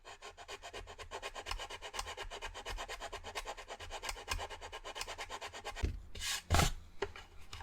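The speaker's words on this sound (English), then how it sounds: "So what I'm going to do is I'm going to use this sandpaper." Sandpaper rubbing steadily over a wooden dollhouse in quick, even back-and-forth strokes, near and fairly quiet, with a few sharper rasping scrapes toward the end.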